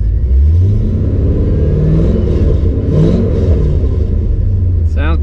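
A 1997 Corvette engine runs loud and close, a low steady rumble that rises in a couple of revs before settling back, with a brief higher whine near the end.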